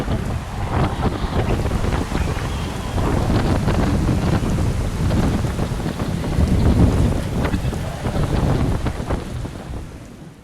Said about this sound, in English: This was definitely our strongest storm.